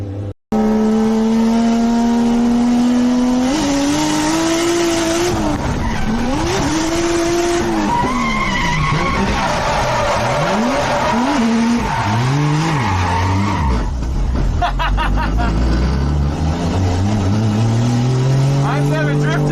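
Drift cars at a Japanese drift matsuri on the full Ebisu Minami-style long track scream past with sustained tire squeal and revving engines, pitch sweeping up and down as they slide, loud and near, with voices talking underneath.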